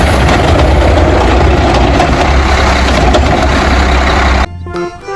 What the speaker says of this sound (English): This is a garbage truck.